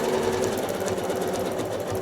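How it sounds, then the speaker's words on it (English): A sewing machine stitches wiggly quilting lines across a pinwheel quilt block. The needle runs in a fast, continuous mechanical chatter, close up and steady throughout. "Now I'm going to stitch over and hit my next set of wiggly lines."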